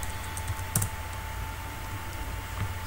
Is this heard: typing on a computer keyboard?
yes